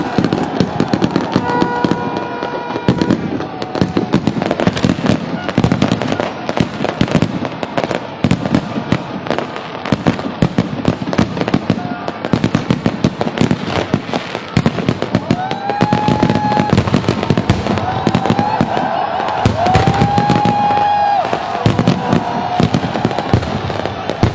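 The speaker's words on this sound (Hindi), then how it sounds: "मीनार पाकिस्तान में इस टाइम आतिशबाजी का एक बड़ा खूबसूरत और बड़ा नफासत के साथ एक आतिशबाजी का सिलसिला जारी है।" Continuous fireworks display at Minar-e-Pakistan for Pakistan's 75th Independence Day, with dense crackling bursts and booming explosions throughout, loud and sustained, with occasional whistling rockets rising.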